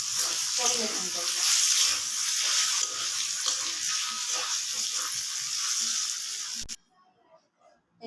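Okra fry with chilies added to the pan, a bright sustained sizzle close by for several seconds with a voice talking over it, then cutting off abruptly to near silence.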